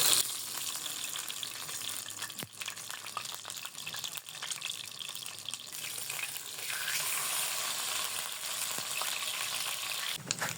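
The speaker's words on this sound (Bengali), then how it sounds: "এখন একটি একটি করে বান দিয়ে আমি ভেজে নিব" Stuffed buns frying in a little oil in a pan give a steady, bright sizzle with small crackles and occasional stirring clatter, continuous and close throughout with no talking.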